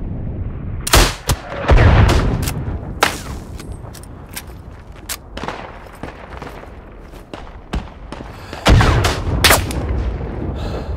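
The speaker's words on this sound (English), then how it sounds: "Who the fuck is shooting at me?" Gunfire in the mountain-warfare shooter Isonzo: close, loud shots and sharp blasts sound in irregular bursts, with heavy booms near the start and end and quieter reports scattered between.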